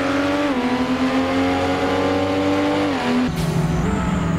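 Toyota Supra in a Roblox racing game revving hard with nitro boost, a loud, sustained engine drone holding pitch and then dropping as it shifts, heard close with no talking.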